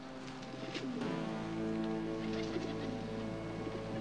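Pigeons cooing in cages, a steady chorus of overlapping low throaty coos that carries on throughout, fairly loud and close, with no talking.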